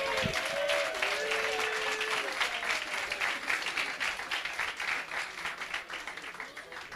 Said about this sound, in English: I think let's also give them a little round of applause.